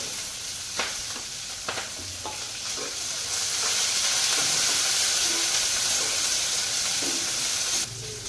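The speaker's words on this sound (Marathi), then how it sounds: "मी तेल ठेवले भाजीला, धूर निघायला लागलाय, फोडणी टाकते" Spices for tempering hit smoking-hot oil for a broad bean pod vegetable, with a few scraping stirs at first, then a loud, sustained sizzle and hiss that cuts off near the end.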